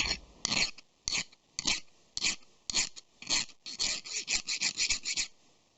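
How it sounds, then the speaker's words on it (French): A hand file rasps across a piece of quenched 35NCD16 steel in a dozen or so short, harsh strokes, close and loud, speeding into a quicker run of strokes near the end with no talking. "alors on va essayer si on peut limer dessus"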